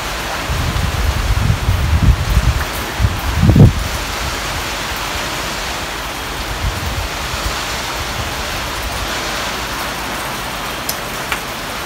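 Steady rain with gusting wind in a rural garden setting, a dense broadband wash with a few louder buffets early on and continuous patter throughout, no voices.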